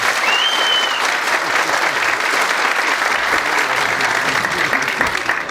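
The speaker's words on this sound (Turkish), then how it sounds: "kuvvetli bir alkış rica ediyorum" A crowd at a political party provincial council meeting claps in loud, sustained applause that fills the room evenly from start to finish.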